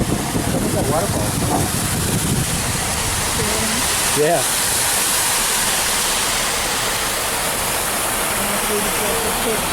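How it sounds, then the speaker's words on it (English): Steady rushing water from a man-made waterfall along the Bricktown Canal, heard from a water taxi, a continuous broadband roar with someone speaking briefly over it. "Look at that waterfall."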